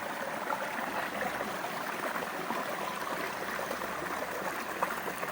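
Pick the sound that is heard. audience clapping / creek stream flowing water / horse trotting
creek stream flowing water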